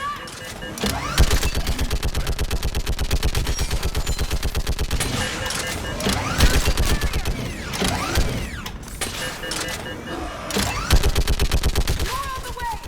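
A mounted gun in Mass Effect 3 fires in long rapid bursts, rattling loudly with short pauses between volleys, while voices shout over the battle.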